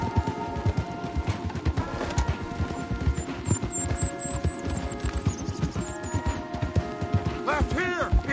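Horses gallop hard in a video game, giving rapid rhythmic hoofbeats throughout, mixed with game music and rumbling effects.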